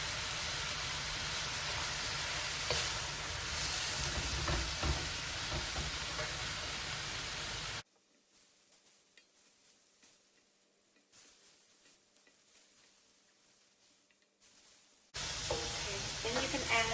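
Tomato going into a pasta stir fry with elbow macaroni and thin shredded vegetables, sizzling and hissing steadily in a hot pan, loud for several seconds, then dropping to near silence before the frying returns.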